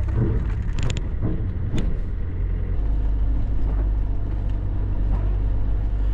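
A Land Rover Defender drives on Uist at night after coming off the ferry, its engine and road rumble a steady, close drone inside the cab, with a few faint clicks near the start and no talking.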